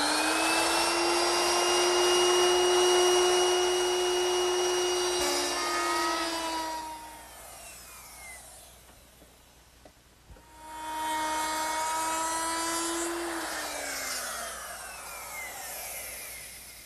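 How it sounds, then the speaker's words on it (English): A wood router with a 22-degree bevelling bit cuts a bevelled rabbet on a writing desk part, a loud, steady high whine that dips and falls silent midway, then spins up and runs again. "I'll make that beveled rabbet using a 22-degree beveling bit"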